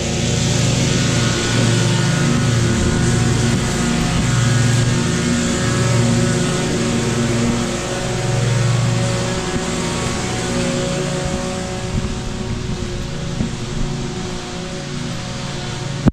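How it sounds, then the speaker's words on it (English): A string trimmer (weed eater) running at full throttle on wet grass in a backyard, a loud steady engine drone that holds for the whole stretch and eases slightly toward the end, no talk. "I could already tell that new guy is full throttling that weed eater like crazy."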